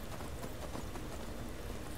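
Horse hooves clatter in rapid, dense clip-clop while riding in the video game Skyrim, a brief, continuous stretch of galloping footfalls under a noisy wash.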